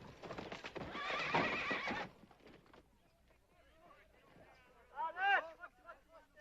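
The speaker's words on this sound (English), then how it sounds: "That's what I call riding a horse." Horse hooves clip-clop quickly, then slow into scattered steps as the horse settles, ending in a loud neigh. Faint voices are heard in the background.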